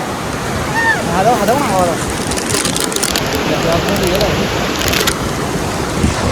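River water flows with a loud, broad rush mixed with wind buffeting, while voices speak briefly over it.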